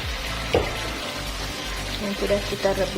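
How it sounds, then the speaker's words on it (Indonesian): Stirring a thickening sauce for mie kangkung in a pan, a soft continuous sizzle and scrape with a brief louder clack near the start, close by, over a low steady background hum. "Kita aduk sampai semuanya mengental."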